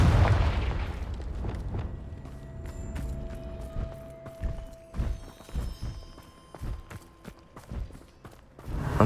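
A Confringo blasting spell in Hogwarts Legacy goes off as a cluster of sharp booms and cracks, followed by irregular thuds and impacts amid ambient game sound with a faint tonal hum.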